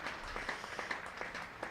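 A county cricket crowd at a Yorkshire versus Lancashire championship match applauds, a soft, distant patter of scattered clapping with no talking.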